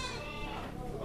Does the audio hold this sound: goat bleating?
yes